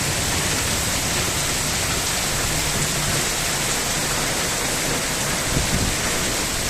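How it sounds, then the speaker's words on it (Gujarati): Unseasonal rain pours down steadily in a broad, constant hiss, loud and close, with no voices and only a faint low rumble near the end. "આવો વરસાદ જે ચોમાસામાં આવે તો ફાયદાકારક થાય"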